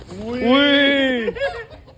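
A chicken lets out a loud, drawn-out squawking cluck close by, a strained harmonic cry lasting about a second as it is grabbed, followed by a few shorter broken calls, with people talking around it.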